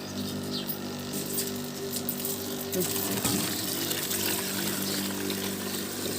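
A steady stream of water runs into a metal pot, constant and close, with a low hum underneath and a brief clatter midway.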